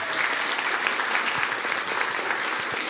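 A crowd gives a steady round of applause for a walking group at a community challenge grand final, dense clapping filling the whole stretch without pause.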